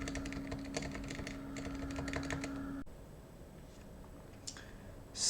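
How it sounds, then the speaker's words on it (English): Clicky typing on a Keychron K6 mechanical keyboard whose Cherry MX stabilizers still rattle, steady close keystrokes with a faint hum for about three seconds, then sparser, quieter clicks. "these are the stabilizers, you can still hear them"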